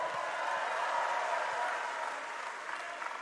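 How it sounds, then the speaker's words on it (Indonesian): Steady, full applause from a sizable crowd honoring Prabowo Subianto at a televised event, holding at an even level throughout with a slight easing near the end. "kita beri tepuk tangan yang paling meriah untuk Bapak Prabowo Subianto"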